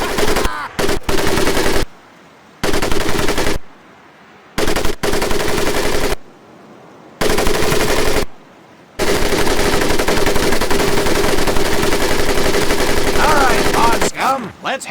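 Machine gun firing in the WWII shooter Pacific Assault at a boot camp range, loud sustained automatic bursts broken by several short pauses, then one long continuous stream of fire, close and dominant.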